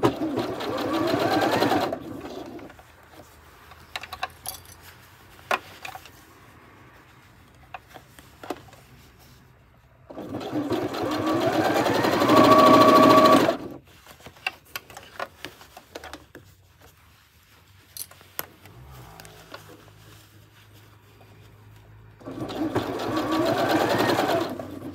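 Sewing machine stitching a quarter-inch seam on fabric sewn from the inside, in three loud, steady bursts of whirring with quiet pauses between them.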